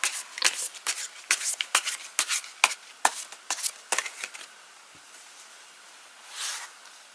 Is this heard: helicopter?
no